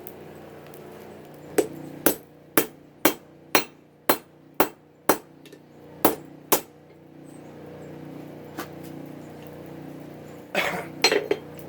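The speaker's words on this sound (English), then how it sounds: "Now I can start working that on the anvil." Hot metal is hammered on an anvil at a forge while making a 1-inch end punch: about ten sharp, evenly spaced ringing blows, then a pause and a few quicker, clattering strikes.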